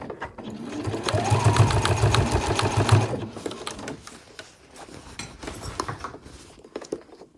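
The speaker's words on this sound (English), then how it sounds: "So I'm going to start sewing at the top" A sewing machine runs a fast, steady stitch through several thick layers of a backpack seam, loud and close for about three seconds, then stops and leaves quieter handling sounds.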